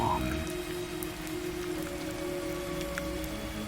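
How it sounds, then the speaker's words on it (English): Warm rain falls steadily in a clearing, a soft constant patter with scattered droplet ticks, even and unbroken throughout. "the warm rain drifting around you"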